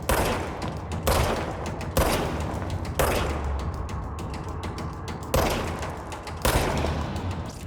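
Repeated bursts of gunfire from the third-person shooter game Control, sharp loud reports at irregular intervals roughly every one to two seconds, each followed by a rumbling decay over a steady low background.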